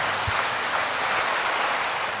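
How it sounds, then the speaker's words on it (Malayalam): A congregation at a Malayalam healing service claps together in a steady, even roar of hand claps that runs the whole time with no break. "കുറച്ചും ശക്തിയുടെ കൈയടിച്ച്"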